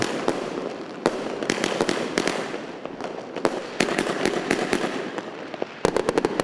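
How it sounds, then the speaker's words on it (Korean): Loud New Year fireworks bursting repeatedly over Peru, sharp cracks and booms in irregular clusters with crackling in between, continuing throughout. "무시무시한 큰 폭죽을 터뜨리는데 거의 불꽃놀이 수준이다"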